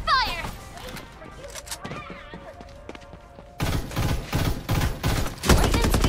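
Gunfire in the shooter video game Farlight 84, with scattered shots and impacts early on, then a loud sustained burst of rapid automatic fire with heavy thumps, set against game music and effects.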